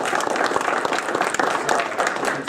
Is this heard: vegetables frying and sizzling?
no